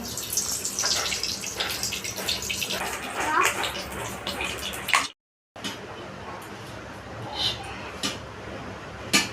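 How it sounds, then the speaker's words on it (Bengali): Oil poured into a hot wok while cooking mustard chicken gives a bright, splashy, running hiss for several seconds, then a brief dead gap, followed by fainter scattered ticks and crackles. "আমার কড়াই গরম হয়ে গেছে আমি এবার তেলগুলো দিয়ে দিব"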